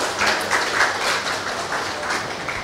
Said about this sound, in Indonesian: tepuk tangan untuk 4 orang ini